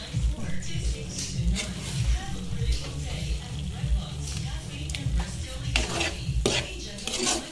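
A utensil stirring fusilli pasta in milk in a pan, with repeated scraping and clinking of metal against the pan at an even rhythm, soft bubbling beneath, and a voice talking over it.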